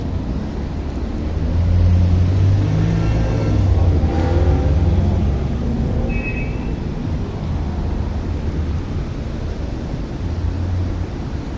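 A car engine runs loudly and close by, a steady deep rumble that swells early on and holds at a heavy drone, with no talking.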